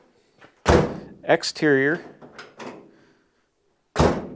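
Door on a 1946 Studebaker truck under restoration being worked and shut, with loud close thunks and a clunk of the latch mechanism, and someone talking between the impacts.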